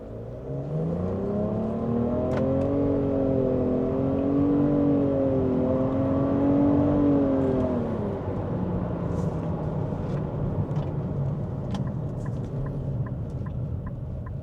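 A 2024 Nissan Rogue with a 1.5-liter engine and CVT transmission, driven in sport mode, accelerates with a rising, wavering engine drone heard from inside the cabin, holding strong before easing off into a steadier hum.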